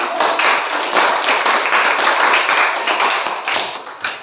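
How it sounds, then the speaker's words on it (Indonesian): Schoolchildren in a classroom clap together in a quick, close burst of applause lasting a few seconds, lively and uneven with individual claps standing out. "Tepuk tangan"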